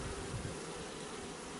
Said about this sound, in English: And you look at this ball of bees up here.